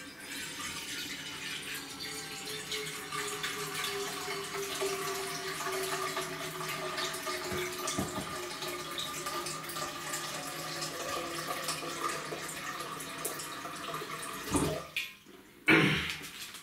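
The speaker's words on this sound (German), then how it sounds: "ich tue das Wasser jetzt in den Topf rein." Tap water runs steadily into a cooking pot, a continuous close splashing rush for a long stretch before it shuts off, followed by a couple of clunks of the pot being handled.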